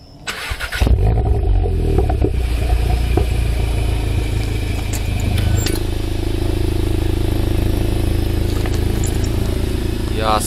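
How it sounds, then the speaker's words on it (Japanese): A Volkswagen Golf R 7.5 Performance with an aftermarket exhaust fires up with a sharp starter whir and loud burst, then settles into a loud, steady, rumbling idle close by. "マフラーの音、ちょっとエンジンスタートの音聞いてみましょう。"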